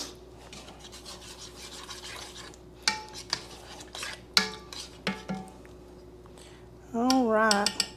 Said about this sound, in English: So I'm gonna get me a little spoon and we're gonna taste it.